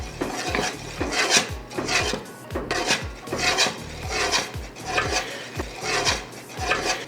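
A spoon works steadily through thick cheese grits in a pot, repeated rhythmic scraping strokes against the bottom and sides roughly twice a second, close and clear with no talking.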